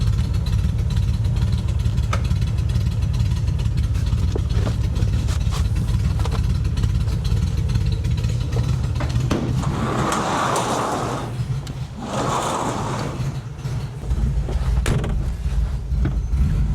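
1968 VW Fastback engine running, a steady low rumbling idle close by, with a brief clunk and some rattling partway through before the drone settles again.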